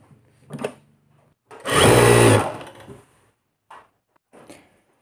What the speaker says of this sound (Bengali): এই যে সাইডটা সেলাই করে দেবো।